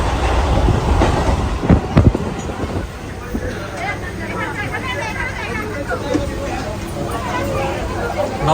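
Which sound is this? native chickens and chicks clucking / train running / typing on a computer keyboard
train running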